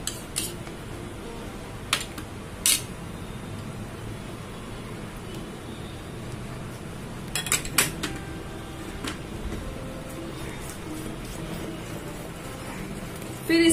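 Curd, a hundred grams of Amul dahi, being mixed in a bowl for an eggless Nutella brownie: soft steady scraping with several sharp clinks of a spoon against the bowl, close up, no talking.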